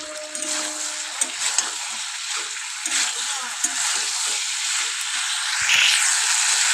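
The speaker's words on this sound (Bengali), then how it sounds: "ফুলকপি আর আলুটা দিয়ে কিন্তু খুব ভালো করে মশলাটাকে কষিয়ে নেব" Cauliflower and potato sauté in oil and spice paste with a steady, moderate sizzle and occasional stirring scrapes, while a voice talks over it.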